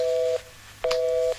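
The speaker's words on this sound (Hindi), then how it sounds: "फोन कट गया।" Phone line tones after a call is disconnected: two steady beeps, each about half a second long, with a short gap between them. The beeps are clear and fairly loud, with no voices.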